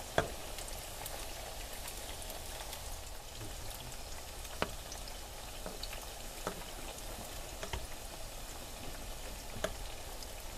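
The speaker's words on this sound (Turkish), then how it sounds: "Bu şekilde yağı üzerine atıyorum. Şöyle. Bak nasıl kabarıyor üzerine atınca." Hot oil poured over Adana karakuş dessert dough as it fries, giving a soft, steady sizzle and crackle with scattered sharper pops, faint and close, and no talk.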